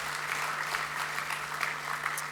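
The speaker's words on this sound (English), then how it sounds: "A big, massive round of applause for those guys in particular." Steady applause from a conference audience honoring the premium sponsors at the opening address of the SCA (Qld) conference, a dense continuous clatter of many hands at moderate distance, with a faint steady hum beneath.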